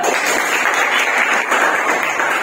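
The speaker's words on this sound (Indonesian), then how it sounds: "Kasih aplaus Albert." Classmates clap for a student in an Indonesian school lesson, a dense, steady patter of many hands kept up for a couple of seconds with no talking over it.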